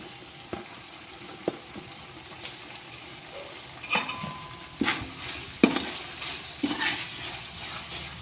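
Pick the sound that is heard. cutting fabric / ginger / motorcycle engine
ginger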